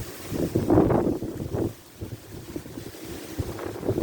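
Gusty wind buffeting the microphone beside a lake while float fishing, in rough swells that rise and ease, loud and close with no voices.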